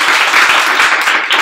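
Audience applause for competing teams at a student engineering case-study competition, a short dense burst of clapping filling the room with no pause.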